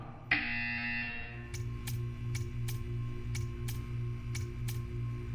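A loud electronic buzzer in Portal 2 sounds for about a second, then a series of sharp regular clicks or ticks follows over a low steady hum.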